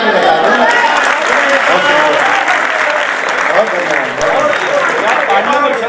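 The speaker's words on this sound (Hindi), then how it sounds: "तो एक बार ताली बजा के बता दो।" An audience at an all-India mushaira, a poetry recital, claps loudly and continuously for several seconds, dense applause close to the microphone.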